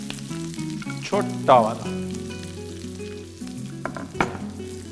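Curry leaves and onion frying in hot oil for a spicy Chettinad-style chicken masala, a low crackling sizzle running beneath a person speaking briefly, with a couple of sharper pops.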